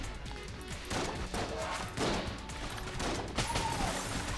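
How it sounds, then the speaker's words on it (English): Enemy gunfire in Enter the Gungeon: dense, rapid bursts of game shots and impacts in quick succession, a busy continuous barrage. "That one's shooting the letters, the number 6 at me, rather."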